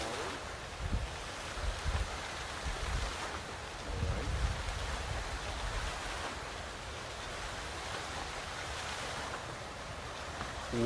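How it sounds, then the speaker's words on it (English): Water fountain running steadily, a continuous broadband splashing wash with slight swells, moderately close and alone without talk. "We're getting a little bit of sounds of the water, of a water fountain"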